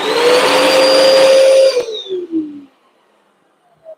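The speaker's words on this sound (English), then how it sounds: "I run the vacuum through the hallway here real quick" Vacuum cleaner running through a hallway, a loud steady whine that cuts off and winds down to silence, with no talk.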